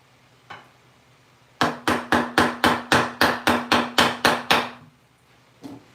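A chisel driven into wood for a bunk bed rail: about a dozen sharp, evenly spaced mallet blows in a steady rhythm, loud and close, framed by a couple of isolated taps before and after.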